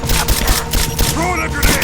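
Dense rapid gunfire in the Rise of the Tomb Raider video game, a loud continuous fusillade of overlapping shots with shouting voices mixed in.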